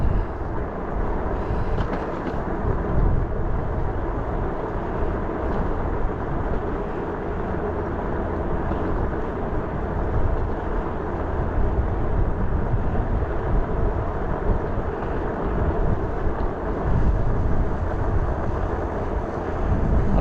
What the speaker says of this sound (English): This is nice timing with this surf liner coming up here.